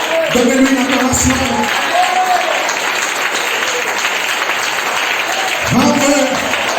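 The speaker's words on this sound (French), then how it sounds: "Donnez-lui une acclamation." A church congregation applauds and cheers, with a steady wash of clapping and crowd noise and a voice speaking at the start and end.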